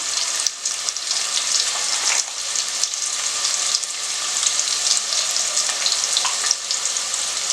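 Cloves and a piece of cinnamon frying in hot oil, a steady close sizzle with light crackling and occasional stirring, no talk.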